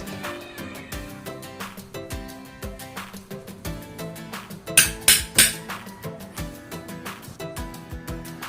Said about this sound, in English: Using pricking iron and hammer, punch holes.